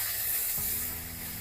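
Eggplant and capsicum fry in a pan, giving a steady close sizzle and hiss, with a low hum entering midway and no speech.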